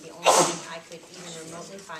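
A person sneezes once, loud and close, in the middle of an online staff meeting discussion, with other people speaking before and after it.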